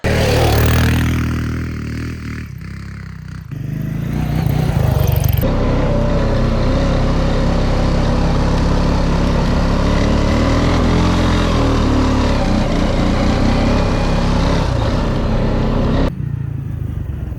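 A Honda Rubicon 500 ATV engine runs loud and close during a test ride, a steady low drone with shifts in revs and a brief dip and surge early on, no speech over it.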